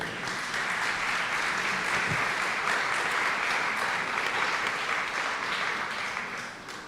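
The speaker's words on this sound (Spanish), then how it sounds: "Por favor, un fuerte aplauso" Sustained applause from an audience at an academic talk, steady clapping throughout with no voices on top, fading slightly at the end.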